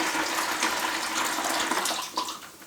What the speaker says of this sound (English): Alright, then I will put 1 liter of water